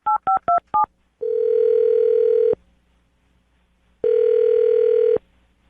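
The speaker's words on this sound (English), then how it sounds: "I'm going to dial the phone number right now." Four quick touch-tone beeps from a phone keypad, then a steady telephone tone held for about a second and a half, a pause, and a second identical tone; clear and close, no talking.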